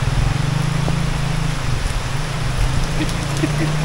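Heavy rain falls near the Makampong River in San Pablo City, Laguna, a loud, steady wash of dense downpour noise with a low rumble underneath.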